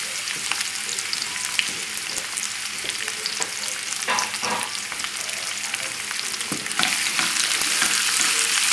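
Shallots sauté over a high flame in a pan for a spinach and turkey salad, giving a steady broadband sizzle with occasional stirring scrapes and clinks throughout, fairly close and without talk.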